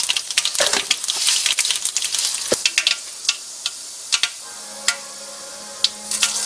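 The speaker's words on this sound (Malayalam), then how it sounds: "കടുക് പൊട്ടി, ഇനി ഉലുവ" Mustard seeds popping in hot oil in a pan for Kerala-style mango pickle: a dense burst of crackling sizzle at first, thinning into scattered sharp single pops over a faint background hum.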